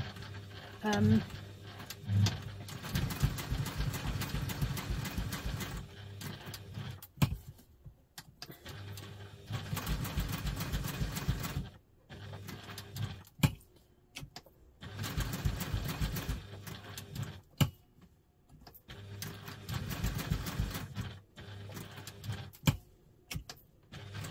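Sewing machine stitching fabric for a double-compartment crossbody bag, running in several bursts of rapid mechanical whirring with pauses between, moderately close, with a little talk.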